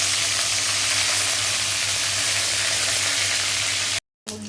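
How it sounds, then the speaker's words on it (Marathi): Curry leaves crackle and sizzle loudly in hot oil with mustard seeds and cumin while a Marathi zunka is cooked, a dense continuous frying hiss that cuts out abruptly near the end. "कढीपत्ता टाकला आहे इथे।"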